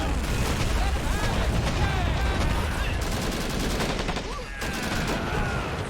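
Grenades exploding over a wall during the 1945 Iwo Jima invasion in Men of War: Assault Squad 2, dense continuous gunfire and booming blasts packed together, loud and close, with voices mixed into the battle din.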